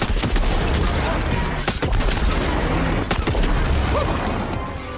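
Rapid gunfire in the Shadow Warrior 3 arena as the player shoots at balls spawning on the roof, dense loud shots and booming impacts cracking steadily over busy game action.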